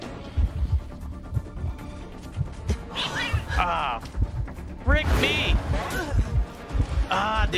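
A cat meows repeatedly from the cat lady character in a video game, several rising and falling cries close up over steady thumping game sounds.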